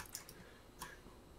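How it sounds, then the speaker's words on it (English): Clock-like ticking clicks in the eerie backrooms waterpark game Anemoiapolis, two or three faint, sharp ticks spaced apart against a quiet ambient hum. "What are these clickings like clocks?"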